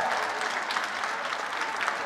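Applause from a festival program audience, dense and steady clapping from many hands filling the space at an even level throughout.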